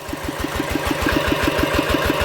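A Kubota single-cylinder 9.5 hp water-pump engine idles at low revs, its loud, evenly spaced thumping beats chugging close by without a break.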